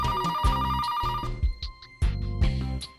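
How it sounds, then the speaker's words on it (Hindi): A telephone rings through an outgoing call: loud, repeated electronic ring tones in bursts with brief gaps, close and clear, with no talking over them. "मैं कब से ब्रिज को फोन करने की कोशिश कर रहा हूं"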